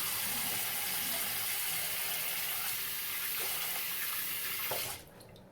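Tap water runs steadily into a sink while a Samurai shavette razor is rinsed under it, a close, loud gush that cuts off abruptly just before the end.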